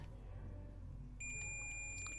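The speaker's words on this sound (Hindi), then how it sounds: "तो यहाँ पे हमको बीप का साउंड प्रॉपर ये सुनाई दे रहा है, यानी हमारा जो कॉइल है वो सही है।" A multimeter in buzzer continuity mode beeps while testing the coil of an LED bulb, a steady high electronic tone that starts partway through and holds, faint over low background hum.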